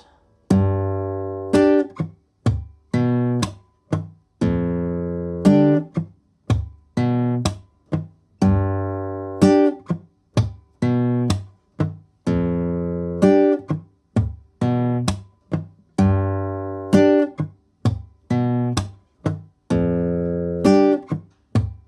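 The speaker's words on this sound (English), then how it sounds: "always on the 2nd beat we do the click and the chord at the same time" Acoustic guitar plays a percussive groove mixing strummed chords, dead-note slaps and a click landing with a chord on the second beat, a steady rhythmic pattern heard close and alone.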